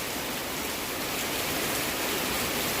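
Dense, even patter of rain falling on guava tree leaves during sunshine, a continuous close hiss with no voices.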